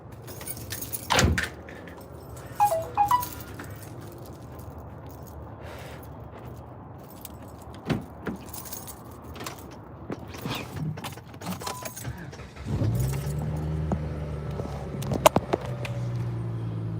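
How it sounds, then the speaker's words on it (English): Car keys jangle in a few short metallic bursts near the start, followed by scattered clicks and handling noises, then a low steady hum in a quiet indoor room. "I can't find my car keys."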